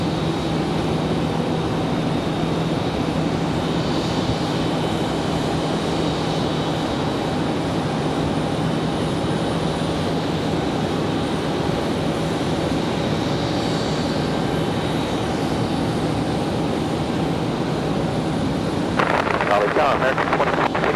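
Steady jet engine roar of a Boeing Dreamliner taxiing at Raleigh Durham airport, a continuous broadband rumble with a faint tonal whine, holding level throughout with a brief rise in noise near the end.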